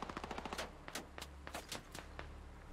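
Gunfire in the military video game SquadOps, rapid bursts of sharp automatic shots and scattered single cracks, fairly faint and distant-sounding, continuing throughout without talk.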